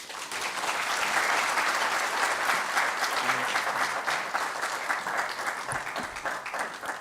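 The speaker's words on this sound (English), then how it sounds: "round of applause for Espen Barth Eide, Norwegian Foreign Minister" Audience applauding the Norwegian Foreign Minister at a Kenya–Norway diplomatic event, a full sustained round of clapping that tapers slightly near the end.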